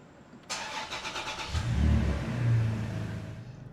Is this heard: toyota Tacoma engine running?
yes